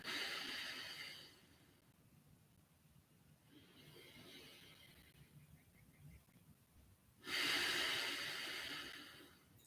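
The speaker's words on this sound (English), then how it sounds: "Breathing in nice and full and smooth exhale." Slow, deep breaths during a yoga session: a full airy inhale through the nose, a long quiet pause with a faint smooth exhale, then another strong close inhale near the end, with no talk.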